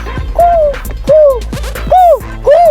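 A voice imitates a rooster crowing four times in a row, each a rising-then-falling hooted call, close and loud.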